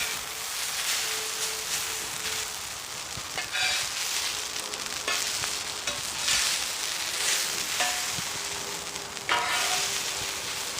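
Potatoes fry on an outdoor flat top grill for a breakfast cook, a steady loud sizzle and crackle running throughout with occasional scrapes and stirring clatter.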